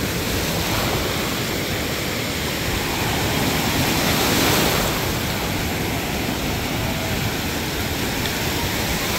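Ocean waves break on a vacation beach, a steady, full roar of surf and rushing water that swells slightly midway and never pauses, with no voices.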